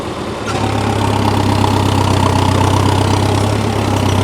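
A heavy tractor engine starts up and settles into a loud, steady low rumble with a throbbing idle, close by.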